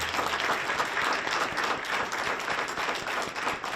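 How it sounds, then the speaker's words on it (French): An audience at a book launch applauds steadily, a dense wash of many hands clapping at a moderate distance with no voices over it. "moi, je veux qu'on les applaudisse, ces 4 historiennes-là"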